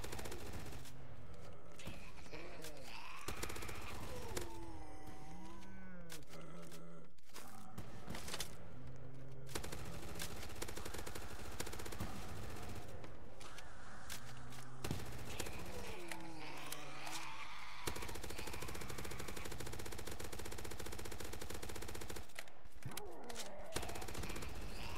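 Automatic gunfire rattles in rapid bursts in the Roblox game Zombie Uprising, loud and dense, with music and game effects under it and no talking.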